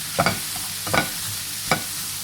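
Okra and egg stir-fried with fish sauce in a pan, giving three separate bursts of spatula scraping over a low, steady sizzle, close and fairly loud with short pauses between strokes.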